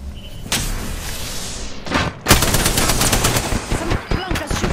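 Automatic weapons fire at the player in Apex Legends: rapid bursts of close, sharp shots with a few heavy slamming impacts, growing denser and louder toward the end.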